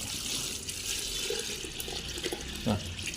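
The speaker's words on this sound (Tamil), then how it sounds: "தண்ணி எந்தளவுக்கு வேணும் இருந்தாலும் தண்ணி ஊற்றிங்க" Water runs and splashes steadily into a pot for horse gram rasam, a continuous close-up pouring with a few louder gurgles near the end.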